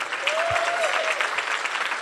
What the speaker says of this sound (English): Would you please give yourselves a round of applause?